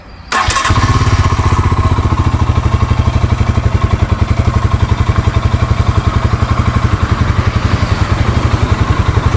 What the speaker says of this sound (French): on peut voir qu'elle a un bon petit bruit, cette Himalayan